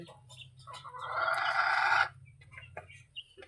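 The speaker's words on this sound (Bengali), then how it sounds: "দেখুন আমাদের বাসার মুরগিগুলো এখন রাত্রেবেলা খাওয়া দাওয়া করছে" Brahma, deshi and Sonali chickens feeding at night near a house give a single drawn-out, close clucking squawk, with a few softer clucks before and after in a quiet setting.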